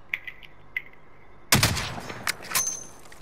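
Gunfire in Call of Duty Warzone at Verdansk: faint distant pops early, then a sudden close burst of shots with scattered follow-up cracks.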